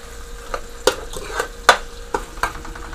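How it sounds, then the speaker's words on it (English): Fish curry fries in masala in a pan, with a low sizzle behind a series of sharp clinks and scrapes from stirring, close and moderately loud. "let it start to fry into the masala until it gets a little more dry"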